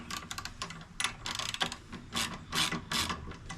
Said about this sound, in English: I'm going to loosen off this bolt right over here